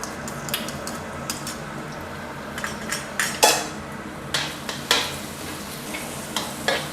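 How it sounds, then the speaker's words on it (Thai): Chili and garlic stir-fry in hot oil in a pan, a steady sizzle broken by repeated sharp clinks and scrapes of a metal spatula against the wok, close and fairly loud, with no talking. "ก็ใส่น้ำมันสำหรับผัดลงไปนะครับ แล้วก็ตามด้วยเครื่องผัดนะครับ ก็คือพริกกับกระเทียมนะครับ"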